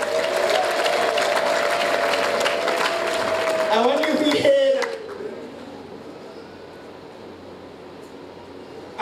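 An audience applauds with dense, steady clapping for about five seconds, then it cuts off abruptly to a quieter room hum.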